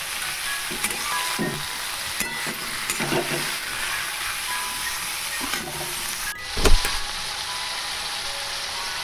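Vegetable chow mein with cabbage sizzles steadily in a pan while being stirred, with a few scraping knocks of the utensil and one louder clatter, no voices.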